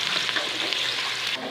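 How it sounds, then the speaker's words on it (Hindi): Chopped onions frying in hot cooking oil for chicken biryani, a steady dense sizzle with occasional scraping stirs, close and fairly loud throughout, no voices. "अब ऑयल गर्म हो गया, इसमें डाल देंगे प्याज"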